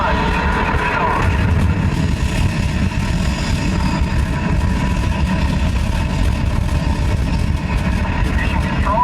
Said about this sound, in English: We have main engine start.